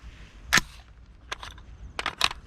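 Gunshots fired from a magazine-fed gun over a line of sand, a sharp crack followed by a few softer, scattered shots with quiet pauses between them.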